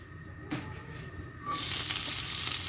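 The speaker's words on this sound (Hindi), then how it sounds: "अब इसके अंदर हम प्याज डालेंगे" Chopped onions dropped into hot oil in a pan for chole burst into a loud, steady sizzle that starts partway through and keeps hissing, after a few faint kitchen clinks.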